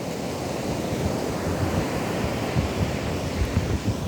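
Typhoon Maysak storm waves crashing on a sandy beach at night, a continuous loud roar of surf with heavy wind buffeting the microphone, no speech.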